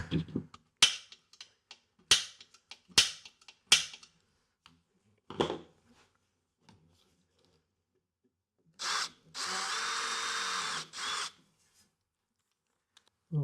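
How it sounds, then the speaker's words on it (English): Power drill boring through metal on a DIY wheelchair lift build for an SUV: several short sharp bursts early on, then a longer steady whirring run of about two seconds, close and loud in a quiet shop. "try to drill all the way through"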